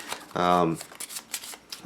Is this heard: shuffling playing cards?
yes